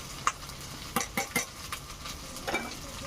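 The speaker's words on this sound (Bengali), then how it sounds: "দিয়ে ভালো করে একটু কষিয়ে নেব" A paste of ground coriander, cumin and dry chilli sizzles softly in oil in a pan while a spoon scrapes and knocks against the metal in several quick stirring strokes, close and fairly quiet, with no talking.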